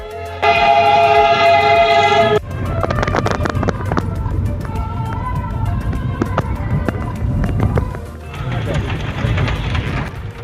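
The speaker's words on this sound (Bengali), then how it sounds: "অবশেষে টয় ট্রেন চলেই এসেছে" Darjeeling toy train running beside a hill road, opening with a loud sustained horn blast, then rumbling wheels and clattering carriages close by, with traffic noise around.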